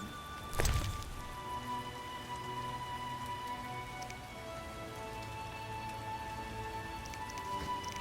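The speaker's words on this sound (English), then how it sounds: "It's raining." Steady patter of rain in the video game The Witcher with a faint tonal hum beneath, a dull thump near the start, no voices.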